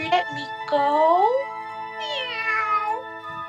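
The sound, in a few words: voice imitating a cat meow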